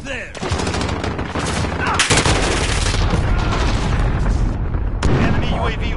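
A video game firefight with a cruise missile strike: loud, continuous rattling gunfire layered with heavy booms and blasts, dense and close for the full six seconds.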